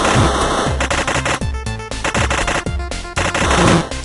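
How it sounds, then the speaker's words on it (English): Video game machine gun fire from an armed bandit wagon in Super Amazing Wagon Adventure, loud rapid bursts of rattling shots repeating in quick succession over a dense backdrop of game sound. "A machine gun armed bandit wagon arrived."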